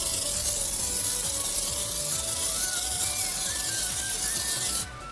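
Close, steady spray hiss from an IK foam sprayer applying iron remover to a car, continuous for about five seconds before cutting off abruptly near the end.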